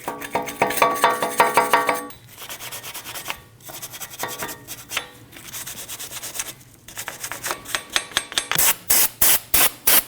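Harsh scraping and rubbing strokes of a wire brush on a metal wheel hub of a 2013-2019 Ford Escape, close up, in bursts that turn into quick rhythmic back-and-forth scrubs toward the end.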